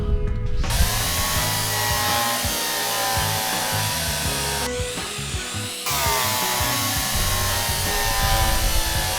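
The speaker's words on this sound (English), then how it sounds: "Warning, loud drill." A loud power drill running almost continuously in the train game Derail Valley, its pitch holding steady with one brief break midway, heard alone without talk.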